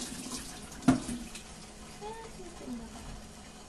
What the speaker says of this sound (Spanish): Por favor, bótenle el agua.